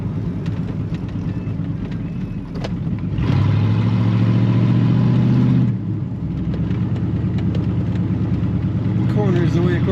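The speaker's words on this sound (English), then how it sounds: "Nice aggressive exhaust sound from those side pipes." A 1973 Chevrolet Corvette engine with side pipe exhaust runs at a low idle, then swells into a louder, deeper rumble for a few seconds before dropping back to idle, with brief talk around it.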